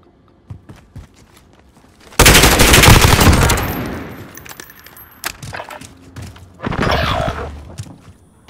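Automatic gunfire from a multiplayer shooting video game comes in a long, loud burst of rapid shots, then a second shorter burst, with faint clicks and taps between them.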